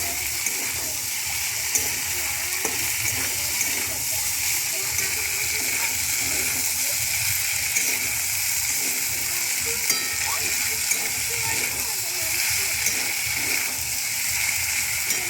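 Green chillies sizzle and get stirred in a pan while pasta is being made, a steady close frying hiss with faint scrapes running throughout.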